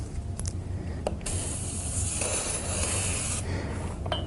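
Lubricant sprayed onto a StairMaster 4000 stepper over a towel backing: steady close hissing spray bursts with rubbing noise, lasting nearly the whole stretch.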